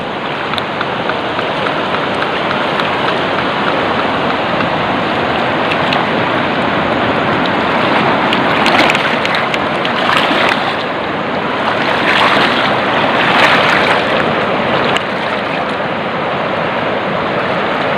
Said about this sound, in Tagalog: Ito ang ilog idol mo.